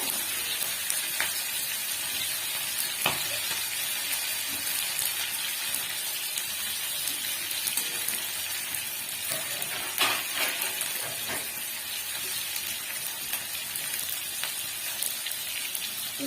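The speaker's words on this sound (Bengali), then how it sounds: "বেশি কিন্তু ভাজতে লাগবে না, হালকা ভাজলেই হয়ে যাবে" Hilsa fish frying lightly in oil with a steady, moderate sizzle and scattered sharp crackles and spatters, no voices over it.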